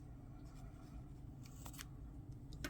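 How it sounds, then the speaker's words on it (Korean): Scissors snipping crochet yarn on a pouch project, with a few quiet, crisp cuts spaced apart over a low steady background hum. "이렇게 잘라주시고 다른 한쪽도 해주세요"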